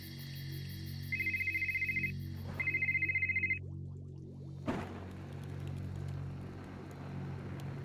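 A telephone rings in the point-and-click game Art of Murder, playing two bursts of rapid electronic trills, then a click and a quiet background hum.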